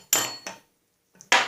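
Puller being taken off a Snapper mower drivetrain axle, two sharp metallic clanks close by, a brief silence, then a faint knock and another loud clank.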